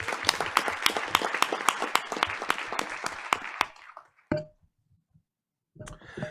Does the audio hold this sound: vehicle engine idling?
no